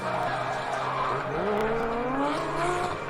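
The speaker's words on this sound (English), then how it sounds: "You can hear the Cray F13 of Rod clipping right his heels." Tires squeal continuously while a drift car engine drones and rises in pitch during a pro drift battle, loud and close throughout.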